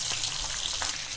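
Cumin, mustard seeds and curry leaves sizzle in hot oil for a tempering, a steady close crackling hiss with small pops throughout, no voices.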